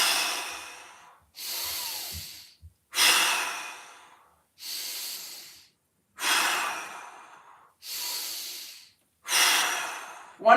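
Six or seven deep, slow inhales follow one another, each a long breathy rush that swells and fades, separated by quiet gaps, close and fairly loud, during a mobility workout warm-up.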